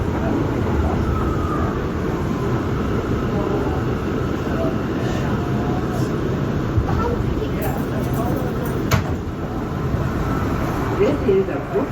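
Brooklyn-bound C local subway train, an R179 car, rumbling steadily along the track, with continuous low-frequency roar and occasional squeal or clank, heard from inside the car.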